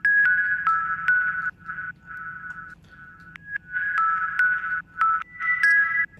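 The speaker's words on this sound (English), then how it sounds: "This is a massive bell sound." A synth bell pluck melody made in the Massive synthesizer plays alone as a steady tonal line of bright, sustained notes with sharp attacks. Short gaps break the phrase.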